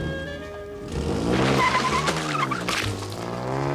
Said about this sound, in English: Drive on, Eugene.